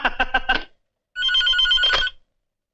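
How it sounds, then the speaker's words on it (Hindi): An office telephone rings after a call is placed. A short trilling ring burst sounds first, then after a brief pause a longer, steadier ring follows, with quiet between and after. "चल चल अपने भैया को ऑफिस फोन लगा"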